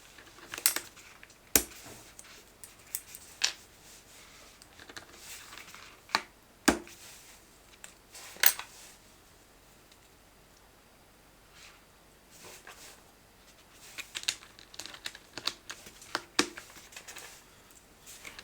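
Plastic PBT double-shot keycaps clicking and snapping as they are pulled off and pressed onto a Be quiet Light Mount keyboard, scattered sharp taps and clacks with quiet gaps, close and fairly soft.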